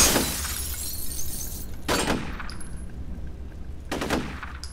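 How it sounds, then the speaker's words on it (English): Three sharp gunshot bursts in the video game F.E.A.R., each with a bright shattering crack that decays quickly, spaced about two seconds apart over a steady low hum. "I didn't think shooting it was gonna work, but I was gonna try"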